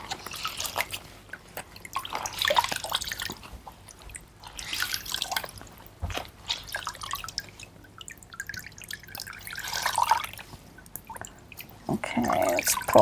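A cold wet cloth is wrung out, and water drips and splashes in scattered bursts, close by, with quieter gaps between the drips.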